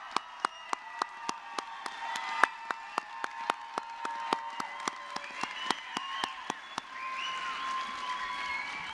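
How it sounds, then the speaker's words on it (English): High school equivalency graduates at a 2024 ceremony at Pima applaud themselves: a single clear, evenly spaced clapping beat of sharp claps runs for several seconds over soft crowd murmur and cheering, then gives way to a broader wash of crowd noise. "Please give yourselves a round of applause."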